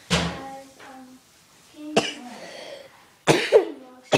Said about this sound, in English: I just have a really bad cough.